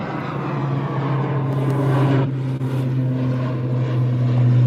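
An Aer Lingus airliner taking off into fog at Birmingham Airport gives a loud, continuous engine roar with a strong low hum that swells toward the end.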